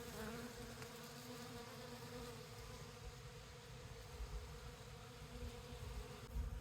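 A dense, continuous drone of many bees buzzing close by in flowering boxwood, steady and unbroken throughout.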